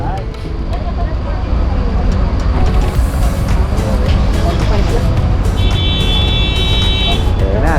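Bumper-to-bumper street traffic in Mazatlan, Mexico forms a dense, loud roar of engines close by, with a horn sounding late in the stretch and voices talking over the noise.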